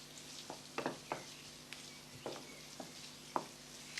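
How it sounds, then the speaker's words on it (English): King prawns fry in a pan, a soft steady sizzle broken by quiet scattered pops and stirring taps, close and faint, with no voices. "Okay, so these are starting to cook nicely in the pan here now."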